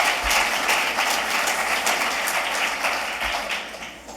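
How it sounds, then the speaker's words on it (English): Audience applause at a conference welcome session, a steady dense patter of many hands clapping throughout, fairly loud and fading slightly toward the end, with no talk over it. "Please clap, isn't it? You should clap."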